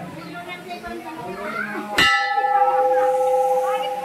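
A temple bell is struck once with a sharp clang, then rings on with a sustained, shimmering metallic tone while people talk in the background.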